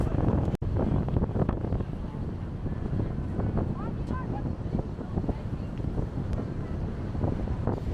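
A tour boat at speed off Cape Town on its return trip drones with a low rumble under heavy wind buffeting the microphone, with splashing water and a voice speaking over it.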